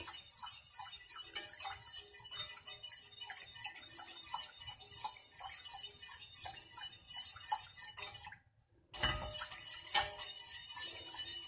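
A spoon taps and clinks steadily against a pot as cake cream is stirred continuously, giving a quick, regular ticking rhythm over a constant high hiss, broken by one brief dropout.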